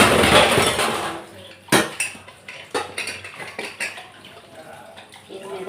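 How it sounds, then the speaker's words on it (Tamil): Dishes and pots being washed with water in a home kitchen, with clinks and clatters of utensils over running water, louder at first and then settling into scattered knocks and scrapes, no talking. "பாத்திரமும் நல்லா சுத்தமாக கழுவலாம்"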